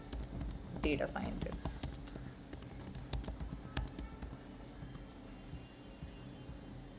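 Computer keyboard keys clatter in quick, uneven bursts while a prompt is typed, with a person talking over the typing at moderate volume.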